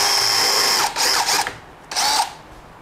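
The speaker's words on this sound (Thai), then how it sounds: "เดี๋ยวลองใช้ตัวนี้เจาะอีกทีนะครับ" A power drill whirs as it bores into material in two bursts, the first longer with a slight ratcheting edge, then a shorter second run, loud and close with no talking.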